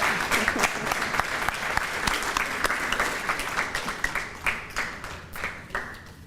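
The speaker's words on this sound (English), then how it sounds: "Please give a round of applause to Valerie L. Ward for her great effort in supporting our community as a PNP ambassador." An audience at a nursing class graduation ceremony applauds an honoree, sustained crowd clapping with sharp nearby claps that thins out toward the end into scattered, separate claps.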